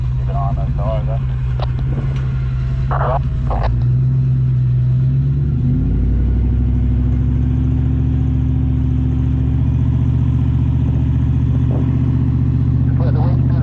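Four-wheel drive vehicle backing into a side track among sand dunes, its engine rumbling loud and close at a steady low idle that swells slightly as it moves, with people talking over it.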